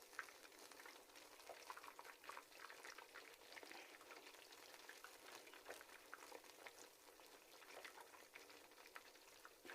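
Kofta fry gently in oil in a pan over low heat, a soft continuous bubbling and crackle heard faint and close, with no talking.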